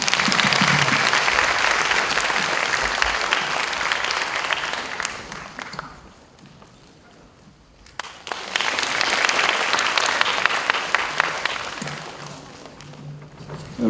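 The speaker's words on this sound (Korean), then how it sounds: "중앙대학교 이용구 총장님을 박수로 모시겠습니다" An audience of high school students gives loud sustained applause to welcome Chung-Ang University president Lee Yong-gu, fading out briefly midway, then a second burst of clapping with scattered taps and thuds.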